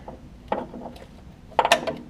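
A socket wrench works a control arm bolt on a 2008–2012 Honda Accord upper control arm. Two short bursts of close mechanical clicking and ratcheting sound, separated by a quiet pause, with no talk.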